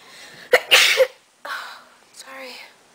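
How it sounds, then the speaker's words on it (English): A person sneezes loudly and close by, preceded by a sharp intake of breath, followed by a short exhale and some faint vocal sounds, during a makeup application session. "I have to sneeze."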